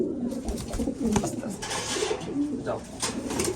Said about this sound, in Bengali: আর এই যে এদিকে যে কবুতর কবুতরগুলো আছে